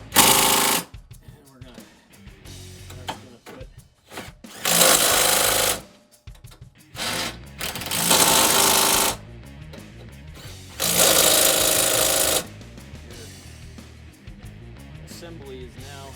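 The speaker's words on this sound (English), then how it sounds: "Now we're gonna tighten up all these" Power tool, likely an impact gun, tightening the strut top nuts on a 2011-2014 Mustang front strut and spring assembly, firing in several loud bursts of a few seconds each, with quieter workshop gaps and brief talk between them.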